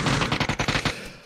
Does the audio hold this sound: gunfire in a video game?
yes